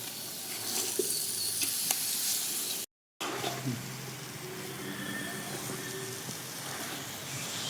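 Chicken pieces frying in ghee for a ghee chicken biryani, releasing their water, with a steady loud sizzle and occasional stirring scrapes that continue after a brief gap.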